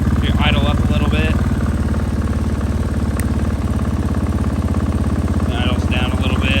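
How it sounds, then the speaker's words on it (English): A motorcycle engine idling steadily after an ECU map switch, a close, even low rumble throughout, with two brief stretches of someone talking over it. "It idles down a little bit. It does idle higher now."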